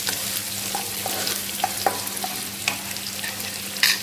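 Sandwich filling frying in a pan for a potato bread sandwich, a steady close sizzle with occasional scraping stirs and small pops, no voices.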